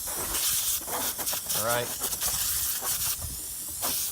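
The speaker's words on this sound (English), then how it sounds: "spraying it as I'm trying to move it back and forth, getting water underneath the lever" Water hisses from a sprayer aimed at a stuck, dirty tank lever, coming in loud broadband bursts beside a brief spoken remark and some background voice.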